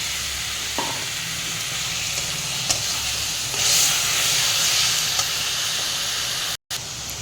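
Onions fry in a pan with salt and chopped tomato, a loud steady sizzle and hiss with occasional scraping stirs and a brief dropout near the end.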